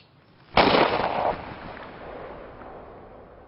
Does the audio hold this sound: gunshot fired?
yes